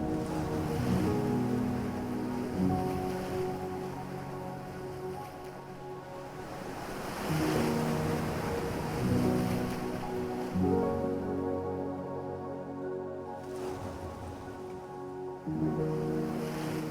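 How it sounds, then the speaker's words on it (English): Powerful ocean waves surge and crash against the Cape Ray Beach shoreline in repeated swells, a loud, steady roar with some wind buffeting the mic and no talking. "watch the powerful waves crash against the shoreline"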